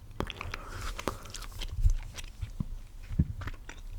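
Gum being chewed close to the microphone, with soft wet smacks and clicks repeating in an irregular rhythm, quiet and intimate, with no talking.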